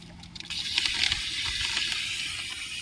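Water pours steadily into a tub already mixed with fertilizer on a farm, a continuous hissing gush heard close by with no voices over it.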